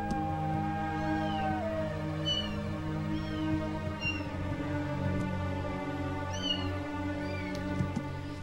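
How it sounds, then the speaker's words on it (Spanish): A cat meows repeatedly, a few plaintive cries spaced across a steady background hum, fairly close. "si escuchan un gato llorando, mis gatitos."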